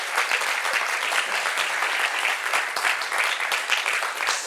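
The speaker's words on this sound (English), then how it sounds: "So please give me another applause." Steady applause from a conference audience at a Swift iOS developer talk, dense continuous clapping at even loudness throughout with no voices over it.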